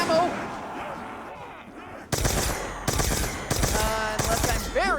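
Gunfire in Black Ops 2 Zombies on the Buried map: a quiet lead-in, then a loud run of rapid shots in several bursts with short gaps between them, with game effects mixed in.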